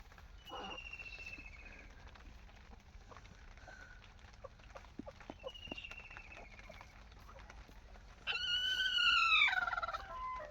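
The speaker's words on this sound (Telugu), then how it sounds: "ఇక్కడ గడ్డి పెట్టేసరికి చికా చికా చేసేసాయి" Chickens in a coop, including a hen ready to lay, cluck after straw is put down. Scattered faint calls are followed by a louder, longer burst of squawking near the end.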